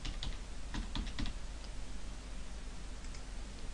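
Typing a password on a computer keyboard: a quick run of close, crisp key clicks that thins to a few scattered taps, with no talking.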